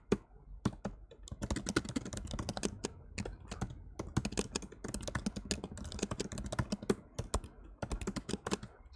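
Code being typed on a computer keyboard: a fast, steady stream of crisp key clicks and clacks with short pauses, close and alone with no talking.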